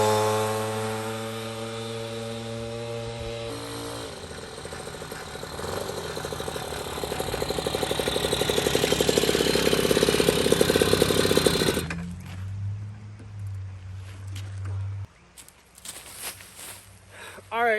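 A Puch Maxi moped with a 70cc kit engine running through a heat cycle, a close, loud two-stroke buzz that idles, climbs in revs to a sustained high whine, then drops back down and sputters near the end, with a voice briefly audible.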